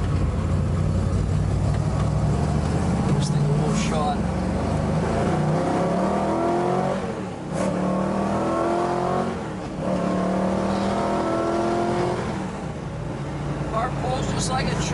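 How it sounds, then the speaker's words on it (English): A 1968 Chevrolet Camaro SS with a 350 V8 accelerates from inside the car, the engine note rising through several gear changes with a loud, throaty growl over road noise. "Car pulls just like it should, a nice strong running 350."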